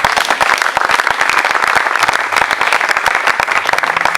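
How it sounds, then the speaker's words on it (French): A congregation at a church service applauds for Jesus, with dense, loud and continuous clapping that fills the whole stretch without a break. "Acclamez pour Jésus."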